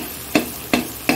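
An egg is knocked against a pan three times while chow mein is being made, giving crisp, evenly spaced taps about a third of a second apart over a faint background.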